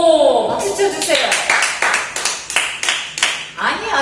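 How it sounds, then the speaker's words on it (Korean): A church congregation claps together at a Sunday worship service, a run of loud, sharp hand claps that repeat in quick bursts. A voice talks over the start, and the clapping is partly rhythmic. "박수 쳐주세요."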